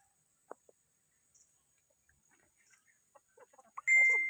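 Scattered soft clucks and short calls from chickens in a quiet setting, growing busier toward the end with a sharper, louder squawk.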